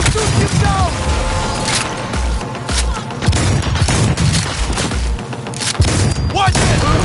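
Rapid bursts of gunfire with heavy booming impacts in the shooter game Cyberpunk 2077, loud and close, firing in dense volleys across the whole stretch with brief lulls and some background voice activity.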